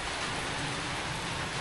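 Heavy, unceasing rain pouring down in Santa Cruz, Laguna, a dense, loud, continuous hiss with no break.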